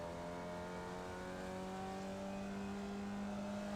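A Formula Vee race car engine in the iRacing video game drones at steady high revs, a sustained buzzing tone that holds its pitch through the turn, fairly quiet and unbroken.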